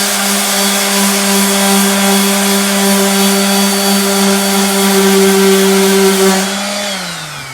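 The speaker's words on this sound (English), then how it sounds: "we're gonna start sanding all the dents" A power sander works over dents on a Jeep Cherokee body being prepped for a Raptor paint job, giving a steady, loud motor whine that runs unbroken and then winds down at the end.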